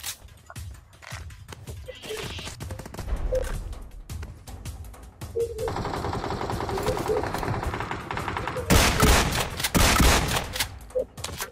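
Gunfire in the battle-royale game BGMI, including sniper rifle shots from behind, comes as bursts of loud cracks and dense rattling fire that builds toward the end, with no voices heard.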